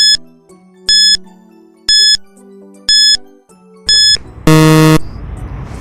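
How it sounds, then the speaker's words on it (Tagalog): Quiz countdown timer on a Grade 4 science lesson: four evenly spaced electronic beeps about a second apart, each with a soft chime, then a loud buzzer blast ending the count. "And the timer starts now."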